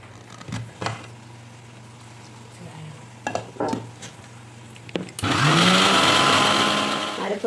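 A kitchen mixer grinder whirs loudly and close for about two seconds, grinding a spice paste with fennel, chilli, coriander and turmeric powder for potato curry, after several scattered clunks and handling knocks.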